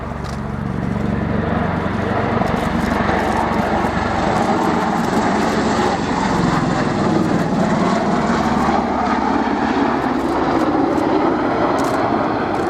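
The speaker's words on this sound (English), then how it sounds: "has now landed on, ready to get airborne again in a very short rolling takeoff" A V-22 Osprey tiltrotor aircraft makes a short rolling takeoff at the RIAT 2015 airshow, its loud, unbroken rotor and engine roar holding steady throughout with a deep thrumming low end.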